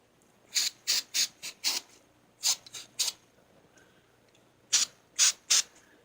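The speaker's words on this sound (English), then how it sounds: "Well, I'll spray my piston." Short, sharp hissing bursts of a spray can spraying lubricant onto a Harley engine piston, about ten in all, come in quick clusters with brief pauses between them, close by.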